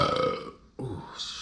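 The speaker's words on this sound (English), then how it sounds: "I don't never normally burp like that." A loud, close burp rumbles out during a sushi, edamame and crab wonton eating session, a single drawn-out belch after a brief pause.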